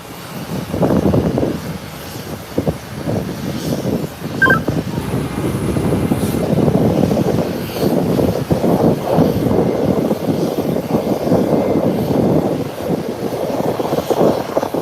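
A JetBlue airliner rolls in at Howard Hamilton International Airport, its engines a steady broad rumble that fills the whole stretch, with a few brief higher chirps over the top.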